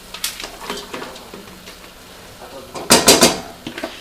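Peas and mixed vegetables tumble into a pot of beef, producing scattered clatters of utensil on metal, with a louder rattling pour toward the end.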